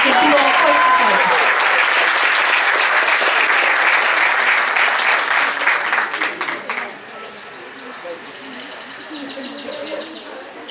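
Applause from a conference audience at a regional education meeting fills the room as steady, dense clapping for several seconds, then thins out and fades to scattered claps, with faint birdsong audible in the background.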